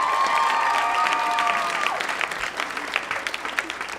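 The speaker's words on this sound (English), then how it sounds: "Clap if you're from somewhere else. Clap." A comedy club audience in Los Angeles claps and cheers, and a few whoops ring out over a full round of applause that then thins to scattered claps.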